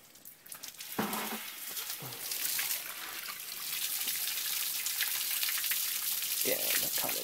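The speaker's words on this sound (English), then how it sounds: "To crank on that water for me." A kitchen tap runs steadily in a fish-prep setting where yellowtail collars are being cut, a continuous hiss of water starting after a second and carrying on to the end, fairly close, with brief voices in the background.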